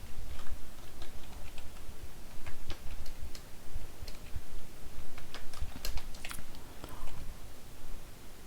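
Computer keyboard typing, a steady run of light, irregular key clicks and taps continuing throughout at close range with no voices.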